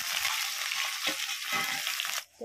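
Onions hitting hot oil for a mutton curry, giving a bright, dense sizzle that holds steady with light stirring before cutting off abruptly near the end.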